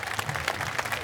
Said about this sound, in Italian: Un applauso al nostro fan club!